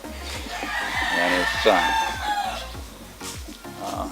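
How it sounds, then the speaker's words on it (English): A rooster crows loudly and close by, with hens clucking around it and a person speaking briefly. "in here they have plenty of roosters apparently."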